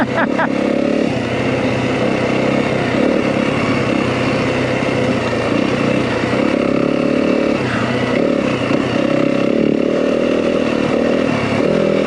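A Yamaha WR250F dirt bike engine drones steadily and loud up close while riding a Flagstaff single-track trail in Kelly Canyon, holding a continuous buzzing note with small throttle rises and dips.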